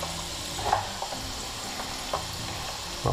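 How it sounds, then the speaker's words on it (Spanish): Green pepper fries in oil left over from cooking potatoes, a soft steady sizzle with occasional stirring clicks and scrapes close by, fairly quiet. "En este mismo aceite de las patatas vamos a meter el pimiento para que se vaya haciendo"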